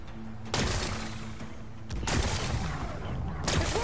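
Loud blasts from explosives breaking rocks in the video game Horizon Forbidden West, three heavy booming bursts about 1.5 seconds apart, each trailing into a rumbling decay.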